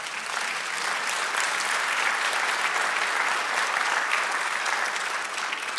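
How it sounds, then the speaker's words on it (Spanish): Sustained applause from a church congregation fills the room at a steady, dense level throughout, with no voices standing out. "Aleluya, dale un aplauso."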